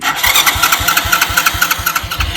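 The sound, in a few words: car engine starting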